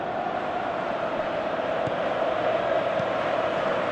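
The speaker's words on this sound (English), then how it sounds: "you can hear how the crowd are reacting to this too." A large football stadium crowd in a video game roars and murmurs continuously in the distance, a broad steady wash of voices.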